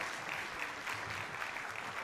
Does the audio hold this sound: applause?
yes